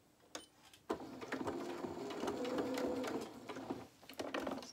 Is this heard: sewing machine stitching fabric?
yes